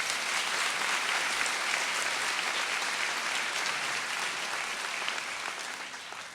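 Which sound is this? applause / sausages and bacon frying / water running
applause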